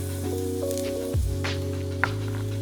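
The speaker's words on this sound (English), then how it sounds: "The next step in our layering process for these black beans is to toast our spices. So I'm going to add some paprika" Paprika toasting in a pan with sautéed onions and garlic for black beans gives a steady close sizzle, with a soft stirring scrape and a few brief crackles, no voice over it.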